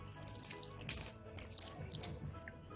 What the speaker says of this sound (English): So I'm going to wash out the fish right now with some white vinegar.